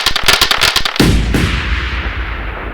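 A rapid volley of four missiles launching from a mech's chest in a tabletop game, sounding as a fast series of sharp explosive bursts followed by one big booming blast that rumbles and decays, loud and close with no talk.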